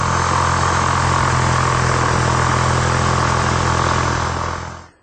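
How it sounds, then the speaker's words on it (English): A jigsaw cuts through a plywood blank with a loud, steady motor buzz that holds constant, then winds down and stops at the very end. "I'm going to cut it with my jigsaw, and I'm going to leave about 1/8 of an inch outside of the line"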